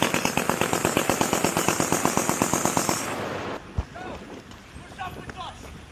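Rapid automatic gunfire during an army training exercise, a loud rhythmic burst of shots for about three seconds, then scattered distant shots with people talking.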